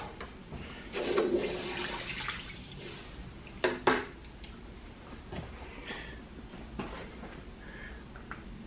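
Hot forged square steel stock is plunged into water and gives a sizzling, bubbling hiss close by, then a couple of sharp metallic knocks and quieter dripping and splashing.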